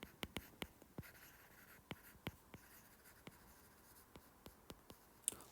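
A pen or marker writes an ionic half equation for chloride ions on a board, tapping and scratching in irregular sharp strokes spread across the span, quiet and close with no talk.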